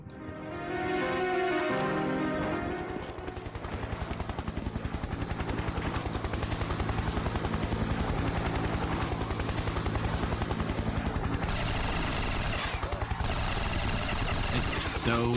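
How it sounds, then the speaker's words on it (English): A helicopter in the Black Ops III Custom Zombies map The Institute 2.0 thumps with a loud, steady rotor chop throughout, joined by bursts of gunfire and game effects. "It's so choppy near the chopper."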